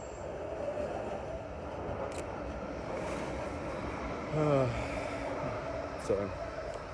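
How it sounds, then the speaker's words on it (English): A tram rolling along a city street, a faint low rumble with a short wheel squeal partway through, heard from a distance under steady background noise. "And there's a tram."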